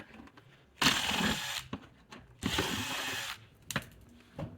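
A power ratchet backs out 8mm bolts from the front bumper of a 2016-2024 Mazda CX-9 in three short buzzing bursts separated by brief pauses, close and clear, with no speech.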